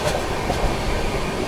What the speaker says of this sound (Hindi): यहाँ पर अपनी गोवा संपर्क क्रांति स्किप करने जा रही है बमनिया रेलवे स्टेशन को